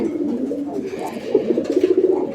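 A coloured Raj-golla pigeon coos close by in a run of rolling, throaty calls that settle into a rhythmic series of pulsing coos toward the end, with faint background noise.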